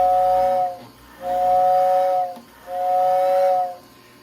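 An O gauge toy train's steam whistle sounds three times, each a steady breathy hoot lasting about a second with short pauses between, close and fairly loud.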